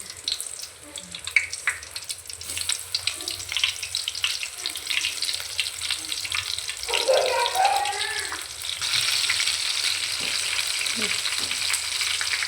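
Soybean kebabs frying in hot oil, a steady broadband sizzle with crackling pops throughout, a brief clatter of utensils partway, continuous and close.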